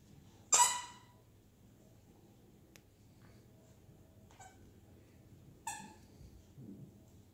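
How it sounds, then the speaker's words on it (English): A dog works a squeaker toy: one loud, sharp squeak near the start, followed by a couple of fainter squeaks later, set against a quiet indoor background. "Back to work on the squeaker"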